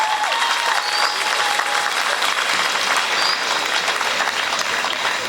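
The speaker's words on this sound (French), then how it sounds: "Nous pouvons applaudir pour le Père Christian" A congregation at a thanksgiving Mass applauds steadily inside the church, even dense clapping sustained for several seconds with a faint tone or two drifting through.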